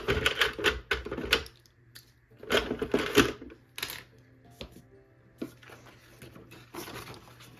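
Scissors snip through paper in quick bursts of crisp clicking cuts, pausing between runs, close and fairly quiet with no speech.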